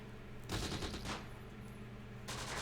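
Gunfire in the Close Combat war game: rapid machine-gun bursts crackle loudly, then stop briefly before another burst begins at the end.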